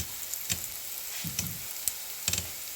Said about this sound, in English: And let my onions get fried.